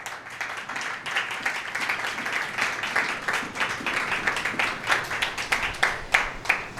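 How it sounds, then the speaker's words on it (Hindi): A church congregation at a Friday prayer meeting claps, with individual hand claps audible inside the applause as it builds and grows more distinct and rhythmic toward the end. "खुदावंद यीशु मसीह के लिए ज़ोरदार तालियां"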